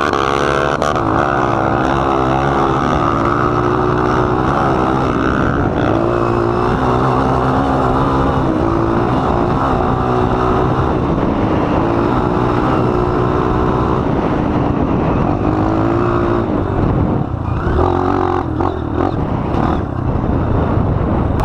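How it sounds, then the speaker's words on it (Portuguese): Suzuki DR-Z off-road motorcycles racing along a dirt trail: a loud, continuous engine roar with rising and falling revs, several bikes droning close together throughout. "Deixa eu fazer um test drive aí nessa moto"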